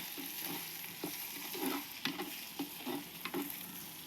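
Tomato, green chillies and dried chillies sautéing in a pan give a soft, steady sizzle, broken by regular scrapes and taps of a spoon stirring roughly every half second, with no talking.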